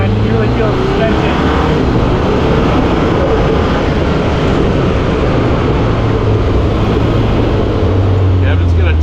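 A Segway SuperVillain 2000 cc UTV with a 6-speed automatic and four-wheel drive engaged is driven hard in race mode off-road, producing a loud, continuous engine roar and rumble with faint voices underneath.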